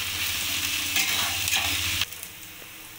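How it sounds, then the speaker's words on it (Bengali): Chopped onions frying in oil in a wok, with a steady close sizzle and stirring scrapes that thin out abruptly partway through, leaving a quieter hiss. "পেঁয়াজগুলোকে আমি লাল করে ভেজে নেব।"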